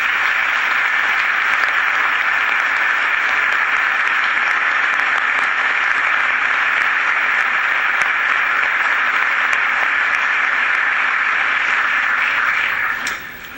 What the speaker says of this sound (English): I'd ask him to stand so we can give him a round of applause.